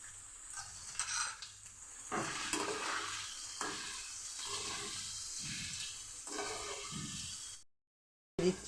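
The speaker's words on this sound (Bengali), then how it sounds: "দিয়ে দিচ্ছি রসুন বাটা, দিয়ে আমি আরেকটু ভেজে নেব" Garlic paste frying in a pan gives a steady, low sizzle broken by repeated scraping strokes of stirring, with a brief silent gap near the end before a short clatter.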